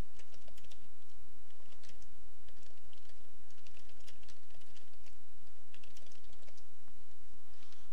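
Rapid, continuous clicking of keys on a computer keyboard while playing Minecraft, faint and close, with no voices over it.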